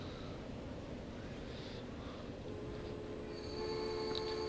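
Trains rumble along rails in the Transport Fever game set in 1906, a low continuous rolling noise that builds near the end with high wheel squeals and whistle-like tones, no talking.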